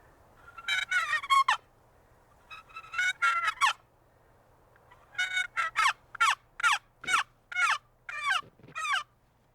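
A wooden turkey box call imitates a gobbler in the wild in Arizona, sounding loud and close with clucks and yelps in short bursts, then a run of eight evenly spaced whining strokes with no voices.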